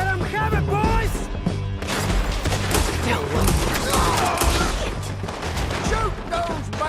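Gunfire crackles through a chaotic Red Dead Redemption 2 town shootout, with rapid overlapping shots, crashes and impacts, while shouting voices cut in over the din.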